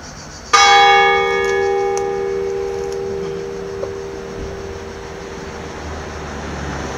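The big main bell of the church of Santi Pietro Apostolo e Marco Evangelista at Pieve a Nievole rings alone for the early Mass. A single loud, close stroke hums and fades slowly over quiet background traffic.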